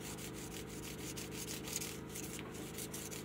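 Guitar fret ends are dressed at an angle with a file or sanding tool, giving a steady, close, continuous rubbing and rasping texture with short rhythmic strokes, faint and alone.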